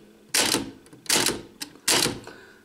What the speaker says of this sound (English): I can't type one-handed very well.